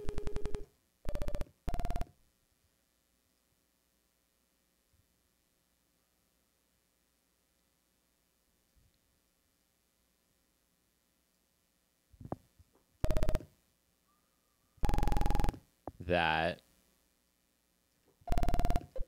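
Several short bursts of a buzzy synthesized tone from a sine wave layered over a saw wave in the Serum synthesizer, separated by long silences, with one warbling wobble near the end; loud, electronic and dry.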